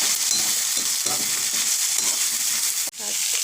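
Potatoes fry in a hot pan with a loud, continuous sizzle, with occasional stirring scrapes and a brief dip near the end.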